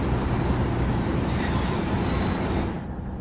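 A train labouring up a hill at low speed with limited power, giving a loud, steady rumble of wheels on rail with high-pitched squeal and hiss throughout, easing off toward the end.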